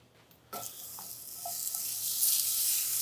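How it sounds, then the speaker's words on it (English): Onion drops into a still-hot pan and starts sizzling, a sudden hiss after a quiet start that swells steadily louder and brighter, with a few faint squeaks of movement. "while this pan's still hot, I might as well add the rest of this onion we have"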